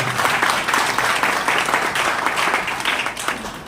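Steady, dense audience applause from a crowd at an event, loud and close, sustained throughout with no talking over it.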